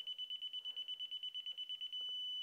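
A KAIWEETS KT360A laser level detector beeps rapidly in a quick, even series of sharp, high-pitched pulses, then switches to a continuous steady tone as it reaches the line; close and clear, with no voices.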